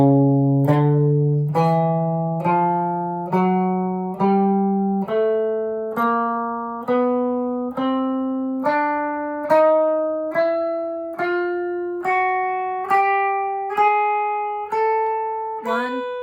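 A guitar four-finger exercise plays up the strings and then comes back down, a steady run of evenly spaced single plucked notes, clear and alone, each with a sharp attack and short decay.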